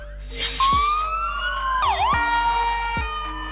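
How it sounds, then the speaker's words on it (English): An ambulance siren wails in rising and falling sweeps, with a quick yelping dip midway, loud and close against a steady low rumble and no talk. "Ambulance."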